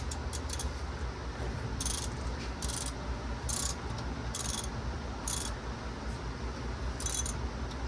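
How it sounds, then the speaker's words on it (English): Ratchet clicks in short bursts as a transmission jack is lowered under a Mercedes E63S AMG during transmission removal, about eight quick clicking runs spaced through a steady garage hum. "Use the ratchet. We are not using impact gun because it brings it down way too fast."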